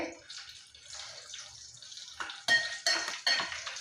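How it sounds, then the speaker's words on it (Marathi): A spoon stirs and scrapes through oil in a pan while eggplant is fried for bharit, with soft clinks followed by sharper metallic scrapes that grow louder near the end, close and without talk. "फ्राय करून घेते तेलामध्ये"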